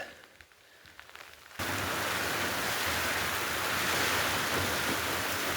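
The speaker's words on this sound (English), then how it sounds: "Just loads of hail as well, extreme." Hail and heavy rain suddenly burst into a dense, loud, continuous hiss and patter after a quieter moment, pounding steadily from close by without any talk.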